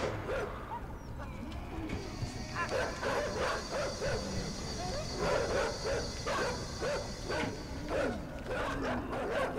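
In the video game INSIDE, a dog gives a run of sharp, repeated barks and yips, fairly close and loud, over a low rumbling background.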